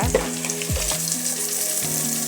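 Steady, loud frying sizzle of tomatoes in a pan with a few low scraping stirs, no voices.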